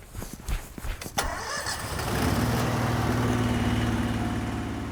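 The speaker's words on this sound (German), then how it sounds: "Und dafür brauchen wir den Kompressor und das wird ganz schön laut." Air compressor used to blow fibre optic cable into a house connection, starting up after a few clunks and handling noises, then settling into a loud, steady droning run.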